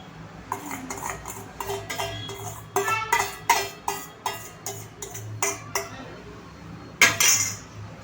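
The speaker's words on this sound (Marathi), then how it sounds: "आणि आता हे बॅटर आपण छानपैकी मिक्स करणार आहोत." Plum cake batter with orange-soaked dry fruits being stirred by hand in a bowl, a spoon clinking against the sides in a quick run of sharp taps, with a few louder knocks near the end.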